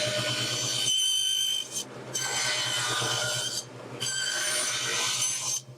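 A table saw set to 1 1/4 inches cuts around a wooden box to separate lid from bottom in three rasping passes separated by short pauses, over a low steady motor hum.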